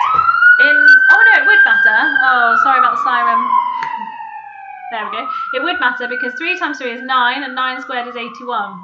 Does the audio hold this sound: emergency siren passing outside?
yes